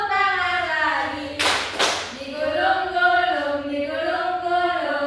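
Children clapping their hands together in a classroom rhythm game, two sharp bursts of claps close together, surrounded by children's singing and talk.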